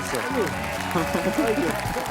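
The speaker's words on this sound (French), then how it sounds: "Applaudissements pour Carla, merci beaucoup." Talent show audience applause rising under a voice on stage, the clapping crowd filling the background while he speaks and thanks the performer.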